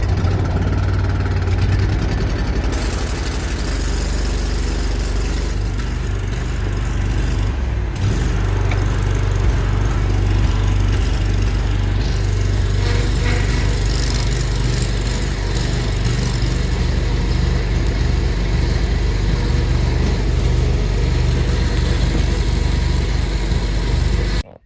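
A small engine on a farm machine with the brake set runs steadily and loud from start to finish. It has a start-up surge in the first seconds, and no voices are heard.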